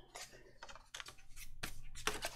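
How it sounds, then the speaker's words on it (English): Scissors snip through the corner of a paper file folder in several quick crisp cuts, close and fairly quiet, each bite a short papery crunch. "And then I'm just going to cut this"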